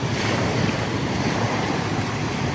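Sea waves wash continuously onto a beach, a steady roar of surf blended with wind buffeting the microphone, loud and unbroken with no voices.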